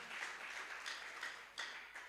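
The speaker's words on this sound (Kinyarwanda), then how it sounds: "Dukomere Imana amashyi menshi cyane." Applause from an audience at an air force ministry leadership gathering: a short, steady patch of crowd clapping, moderately faint with a slightly louder swell near the end and no talking.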